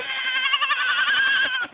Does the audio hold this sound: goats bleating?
yes